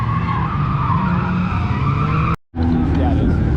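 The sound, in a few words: cars drifting and skidding on a skid pad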